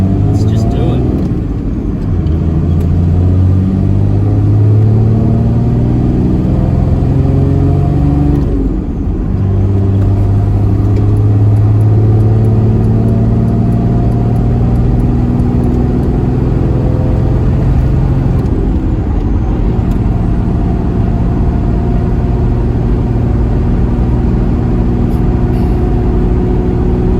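A Toyota Troopy with a 1HD-FTE diesel engine, 3-inch exhaust and snorkel is driven on the road, its steady engine drone and gear changes running continuously loud throughout, with no talk over it.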